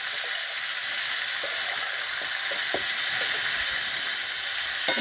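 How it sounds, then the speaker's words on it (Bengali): Cauliflower sizzles in oil on a wood-fired stove, a steady hissing fry close by, dotted with small pops and crackles and a sharper snap at the end. "তোমরা দেখো কিভাবে ফুলকপি ভাজা হচ্ছে।"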